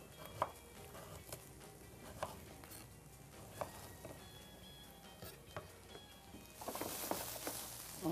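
A knife chops a pear on a cutting board in a home kitchen, giving sparse, quiet, irregular taps that grow quicker and denser near the end, with faint background hiss.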